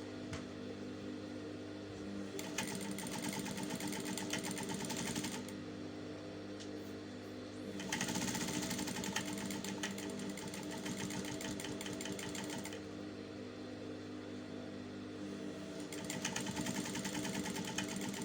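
A sewing machine stitches a seam on a reversible bucket hat, its steady close whirring drone running continuously and picking up speed in bursts, with no talking.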